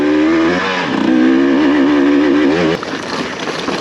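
A dirt bike motorcycle rides along a desert fence line, its engine loud and close with a steady revving drone that rises and dips, then drops to a rougher, lower note near the end.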